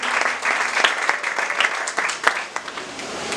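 A church congregation claps steadily through a worship service, dense overlapping applause filling the room with scattered louder hand claps and faint voices mixed in.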